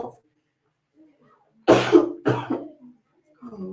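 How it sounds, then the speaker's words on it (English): Two sharp, loud coughs close to the mic, separated by a brief pause, with quiet murmuring voices before and after. "I think I'm gonna have a cough."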